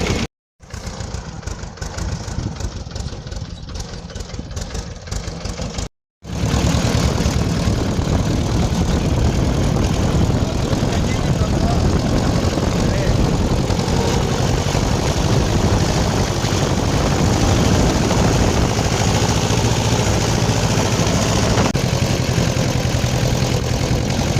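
A vehicle engine drones loudly and continuously on a drive toward a distant forest, briefly cutting out twice early on before settling into a steady rumble.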